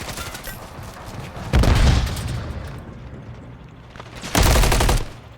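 Gunfire in a video game gunfight during a league match, two loud bursts of shots about three seconds apart over a steady background hum, with no talking.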